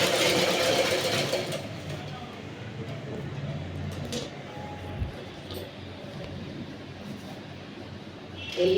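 A sewing machine stitches a dart on the front panel of a blouse, a steady mechanical whir running through most of the clip, with a louder burst at the start and end.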